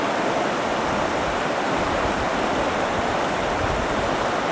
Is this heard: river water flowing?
yes